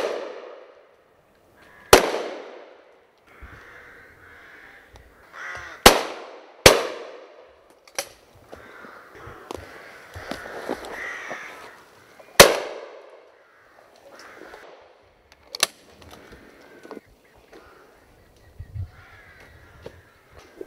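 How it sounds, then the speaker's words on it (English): Rooks caw steadily in the branches while sharp, loud rifle shots crack out at irregular intervals, several sudden reports cutting through the raucous calling of the birds, with no talking. "The birds are so abundant, we can't even manage a conversation in between shots."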